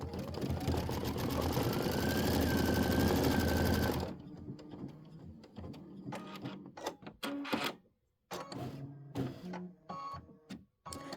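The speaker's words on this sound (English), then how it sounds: "Just pay attention to where they're being stitched." An embroidery machine stitches bird tail feathers on a winter snow bird quilt block, first with a loud, steady rapid whirring, then stopping into intermittent clicks, thumps and short mechanical runs.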